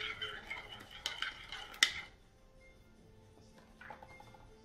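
A chicken marinade with salt and pepper stirred in a bowl, a few clinks and scrapes of a utensil in the first two seconds, then near quiet with faint rustling.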